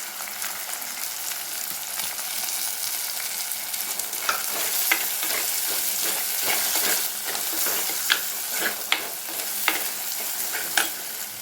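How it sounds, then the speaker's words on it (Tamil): Chili powder being stirred into a prawn curry masala in a pan, a continuous close sizzle with repeated sharp scraping strokes of the spoon growing more frequent toward the end. "குழம்பு மிளகாய்த்தூள் கலந்து விட்டுக்கோங்க"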